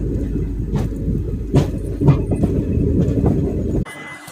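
A passenger train, the Delta Express from Kachiguda to Guntur, rumbles along the tracks with a steady low roar and faint wheel clatter, loud and close, before the sound cuts off abruptly near the end.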